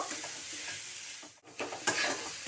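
Grated coconut and jaggery stirred together in a pan, quiet scraping strokes of a spoon against the metal over a low sizzle, a brief pause midway, then a firmer scrape.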